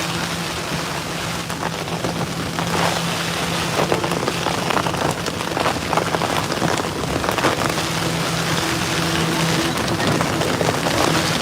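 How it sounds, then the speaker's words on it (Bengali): Heavy rain pours steadily and loudly, heard from inside a vessel on the Meghna river, a dense continuous patter with a low hum underneath and no one speaking. "বাইরে অনেক বেশি বেশি বৃষ্টি হইতেছে"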